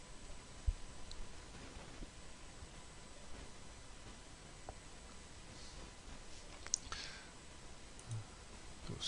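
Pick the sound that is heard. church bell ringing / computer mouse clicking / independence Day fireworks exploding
computer mouse clicking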